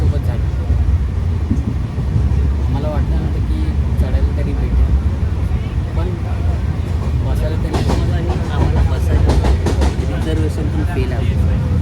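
Steady low rumble and rattling inside a moving train near Ratnagiri, with occasional clicks and squeaks under continuous nearby chatter.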